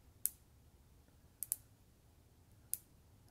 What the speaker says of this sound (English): you'll hear the cracking, but what you're hearing is the wood grain